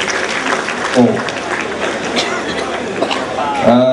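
Applause breaks out for a contest winner at an outdoor event in a crowd at Dataran Shah Alam, Malaysia, with steady clapping under a loud announcer's voice and crowd chatter throughout.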